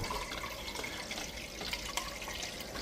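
Kangen alkaline water at pH 9.5 pouring from an ionizer unit into a container, a steady bright splashing stream with faint drips, close and continuous without talk.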